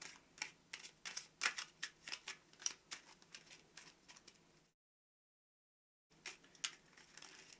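A pile of cards from the Dungeon 5 board game is shuffled by hand, a quiet run of quick papery riffles and taps, stopping briefly before more shuffling resumes.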